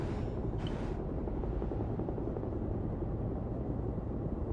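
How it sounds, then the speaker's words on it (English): A private helicopter in the video game Beyond: Two Souls gives a steady, loud rotor and engine rumble that runs unbroken for the whole stretch, with no voices over it. "Boss sends his own private helicopter to get an agent back."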